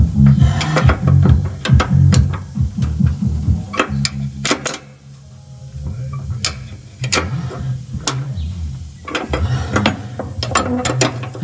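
A ratchet strap clicks loudly and up close as it is tightened over a load of vegetables in Santa Maria de Jetibá. Rapid bursts of sharp clicks are separated by short pauses, with no talk.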